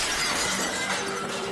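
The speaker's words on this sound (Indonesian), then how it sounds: "terkejut mendengar suara pecahan kaca" Glass shatters in a school laboratory as a loud, close, continuous burst of crashing and tinkling fragments that fills the whole moment without letting up. No one speaks.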